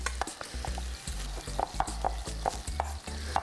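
Chicken sears in a hot pan for chicken marsala, a close, loud sizzle with rhythmic bursts of spitting and crackle over a low hum, no voices.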